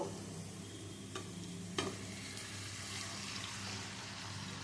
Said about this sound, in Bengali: লাল লাল করে ভেজে নেওয়া হয়ে গেল এখনই আধ ঘন্টা ম্যারিনেট করা চিকেনটা